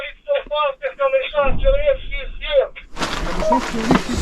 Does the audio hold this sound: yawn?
no